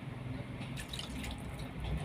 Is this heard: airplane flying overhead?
no